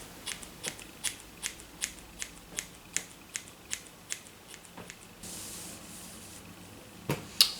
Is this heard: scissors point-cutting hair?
yes